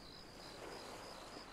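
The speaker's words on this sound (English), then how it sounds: "Crickets." Crickets chirp in the video game Arma Reforger at dawn, a faint, steady pulsing trill over a low ambient hum, with no talking.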